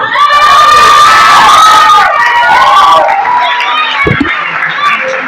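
A church congregation shouting and cheering all at once, a loud, dense wall of overlapping voices with high excited cries, running continuously with no pauses and fading slightly toward the end.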